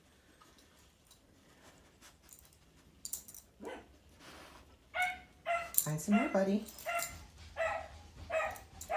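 Dogs bark and yip in rapid bursts, growing louder and busier in the second half, with a voice briefly speaking over the noise.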